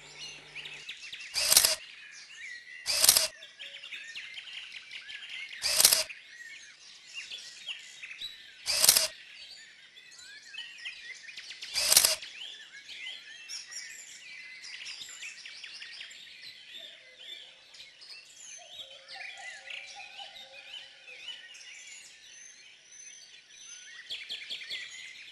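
Many small birds chirp and twitter steadily in a garden refuge, a busy close chorus of calls, broken by five sharp, evenly spaced camera-shutter-like clicks in the first half.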